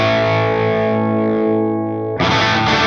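Electric guitar played through a germanium treble booster pedal in the style of a Rangemaster: a sustained, buzzy distorted chord rings out and decays, then a bright, cutting new strum hits sharply near the end.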